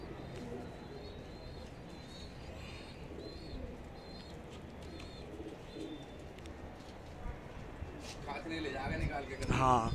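Soft coos from high-flying pigeons repeat in short phrases at a moderate distance, over steady outdoor background noise, with a louder rustle near the end.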